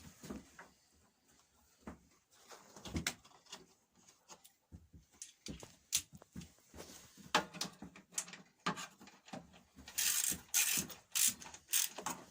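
A socket wrench ratchet clicks in quick, irregular bursts while loosening a carburetor bolt on a Briggs and Stratton 6.75 engine, close and fairly quiet, with handling knocks and a brighter metallic rattle near the end.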